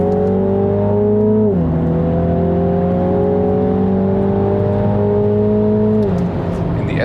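A 306 hp 2020 Mini John Cooper Works GP accelerates hard on the Nürburgring racetrack, engine droning loud and steady from inside the car, with quick upshifts dropping the pitch twice before it climbs again.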